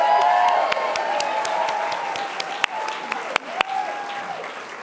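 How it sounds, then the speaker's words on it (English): Sustained audience applause at an awards ceremony in Glasgow, a dense wash of clapping from a crowd, with a few sharper claps standing out near the end. "Can we just have a round of applause for Jackie Bird, please?"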